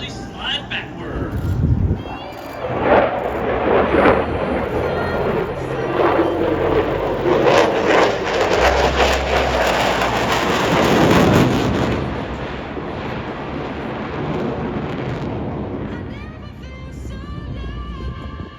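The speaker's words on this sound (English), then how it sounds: "Watch now, from behind as the Raptor flies over, pulls straight into the vertical and brings those throttles to zero" An F-22 Raptor jet passes overhead at a military air show, a loud broadband roar that swells, peaks mid-pass and fades as the aircraft climbs away, with a commentator talking over it.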